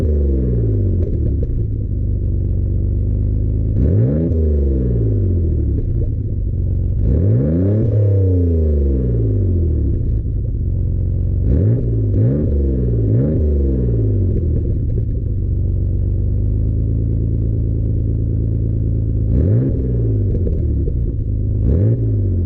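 Mitsubishi 3000GT VR4 engine revving repeatedly while driving, loud and close, with rising and falling pitch sweeps over a steady low rumble, run after its first start-up in many years on poor tires.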